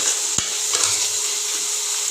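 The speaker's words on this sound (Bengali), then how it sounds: "এবার বন্ধুরা এটাকে কষিয়ে নেবো মশলাটা" Raw tomato and onion masala is stirred in a pan for a chicken curry, with one sharp scrape of a spoon against the pan over a soft, continuous sizzle.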